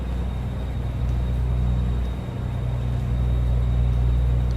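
Detroit DD16 diesel truck engine in American Truck Simulator, a steady low droning rumble that holds at an even level throughout with no distinct revs or gear changes.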